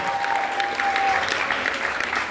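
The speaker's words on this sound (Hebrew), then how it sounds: "מחיאות כפיים ליוליה ותמי." Applause rings out at a graduation ceremony in Ashdod, a dense, steady clapping from the assembled crowd that holds at full strength for the whole stretch with no pause.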